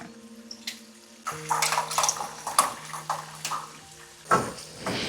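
Tamarind water splashes and pours steadily into a pan, with a broadband watery rush and a louder splash near the end.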